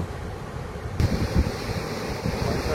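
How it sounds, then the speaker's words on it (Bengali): Water rushing from the released gates of Maithon Dam, a broad continuous roar like surf with wind buffeting the microphone, growing heavier and closer partway through. "ড্যাম থেকে তখন জল ছাড়া হচ্ছে।"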